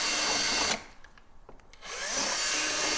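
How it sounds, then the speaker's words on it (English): A power drill with a 3/16 bit enlarges a rivet hole in a full-body skid plate on a 2023 Ski-Doo Expedition SE 900 ACE snowmobile: a close whirring burst, a short pause, then the motor spins up again and runs steadily. "I'm just going to enlarge the hole a bit, just quickly, since the rivets were a bit tight."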